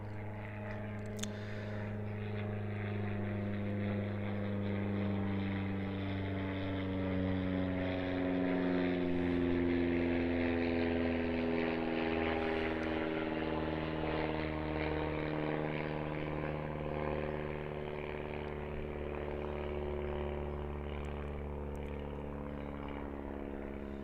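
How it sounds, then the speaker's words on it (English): A propeller airplane drones steadily overhead, its low engine hum rising and falling slowly as it passes, loud and continuous throughout. "Sorry for the airplane overhead"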